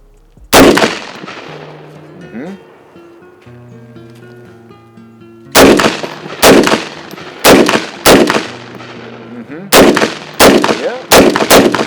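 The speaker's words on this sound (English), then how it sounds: "go ahead and squeeze off your shot." Rifle shots fired on a shooting range, one sharp loud crack, then after a pause a series of about nine more close, evenly spaced blasts, with faint background noise between.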